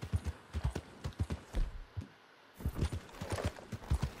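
Horse hooves clip-clop on the ground in Red Dead Redemption 2, a steady walking rhythm of close, distinct thuds that briefly pauses midway before resuming.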